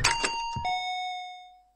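Bell ringing in a horror video game: a couple of quick muffled knocks, then a single clear metallic ding that rings out and slowly decays into silence, close and fairly loud.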